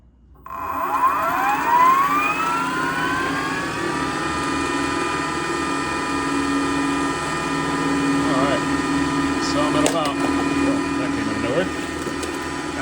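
A sailboat's electric drive motor shifted into forward gives a whine that climbs steadily in pitch over a few seconds, then settles into a steady, close tonal hum with faint clicks.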